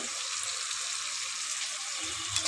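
Potato pieces frying in a pan with salt and turmeric, giving a steady, close hiss of oil with a slight swell near the end.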